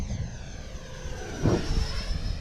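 A Freewing F-5N 80mm EDF radio-control jet at cruising speed on its maiden flight, a steady whooshing whine with a fan tone that swells briefly as it passes nearer, heard alone outdoors.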